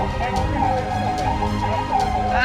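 A wailing ICU ambulance siren sounds steadily throughout at an airport fire-safety drill, fairly loud, with traffic noise and some muffled voices underneath.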